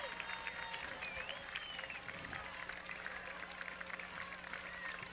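Cheering and applause from a high school football crowd at East Brunswick versus Piscataway in 1988 after an 89-yard kickoff return, a steady, fairly faint wash of noise that runs the whole time, with whistle-like tones over it.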